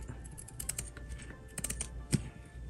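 Pinking shears cut through fabric, giving a faint series of close, crisp snipping clicks in short irregular runs and one sharper snip near the end, with no voices.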